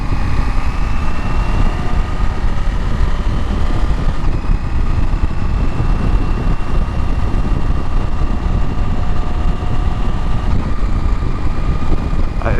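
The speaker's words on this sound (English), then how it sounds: "The exhaust sounds good." A 2024 KTM 890 SMT motorcycle engine and exhaust under way, a steady, moderately loud running drone with tonal harmonics holding throughout and shifting slightly in pitch a few times, heard alone with wind-like broadband noise.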